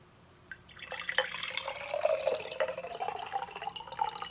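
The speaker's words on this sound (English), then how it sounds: "you're going to take this water that's in here, and you're just going to drain it" Soaking water pouring out of a seed sprouting jar, starting with a few drips and then a steady, gurgling stream that rises in pitch as it drains, close and fairly quiet.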